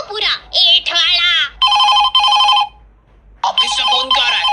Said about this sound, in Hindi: ऑफिस से फोन क्यों आ रहा है?